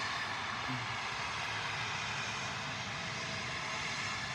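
A Lufthansa airplane at Manchester Airport, a steady broadband jet roar that holds level throughout, heard from the visitor park at some distance with no talk.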